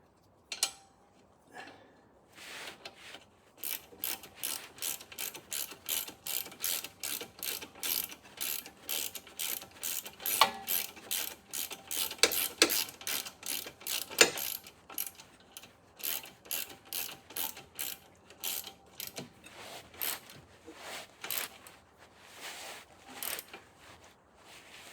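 A hand ratchet tightens the lower control arm bolt on a Suzuki Carry, clicking in quick close bursts of repeated strokes, with brief pauses between them.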